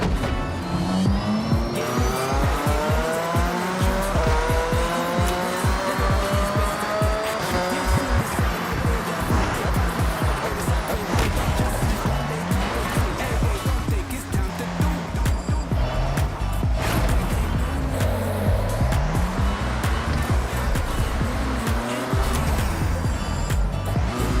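A Nissan Silvia race car in the video game Forza Horizon 6 revs loudly and continuously, its engine pitch climbing and dropping through repeated gear shifts, with occasional tire squeal.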